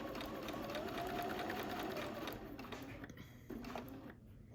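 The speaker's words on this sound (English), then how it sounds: "we're just going to sew from dot to dot" A sewing machine stitches the seams of a hexagon pincushion, running steadily and fairly loud through most of the clip, then slowing and stopping in short bursts near the end.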